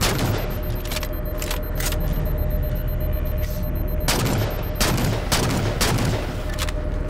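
DMR rifle shots in the Halo 4 video game ring out as sharp, separated reports over a constant loud background of game ambience, with a few single shots landing a second or so apart.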